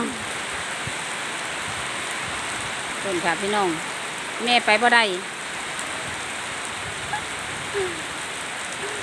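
Steady rain falls hard and constant, with a few brief voices calling out over the hiss.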